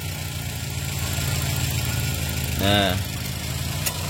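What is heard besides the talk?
Toyota Avanza G 2012 engine idling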